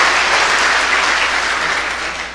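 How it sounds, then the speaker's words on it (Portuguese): Loud, dense applause from a church congregation during a worship service, many hands clapping close and continuously, tapering slightly toward the end, with no speech over it. "Vamos aplaudir Jesus bem forte."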